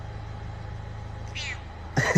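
A cat on a leash gives a short meow near the end, preceded by a brief higher squeak, over a low steady engine-like hum.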